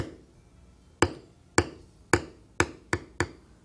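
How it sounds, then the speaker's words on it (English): A large checkered beveler is struck with a mallet to bevel tooled leather along tracing lines, giving six sharp, close taps at a steady, slightly quickening pace, each ringing briefly before fading. "I will use a large sized checkered beveler, and we will use that and bevel inside"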